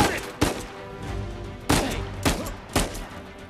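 Gunshots in the video game Uncharted 4, four sharp, loud cracks spaced irregularly over a few seconds, each with a short reverberant tail over a low background rumble.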